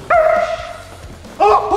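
A Belgian Malinois barks twice at close range, loud strained barks with a whining edge and a short gap between them, sharp and forceful.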